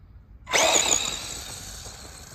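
A Tamiya Hornet Evo RC car with a Tamiya motor starts off on grass, a sudden sharp whine bursting in and then easing to a steady buzzing hum nearby.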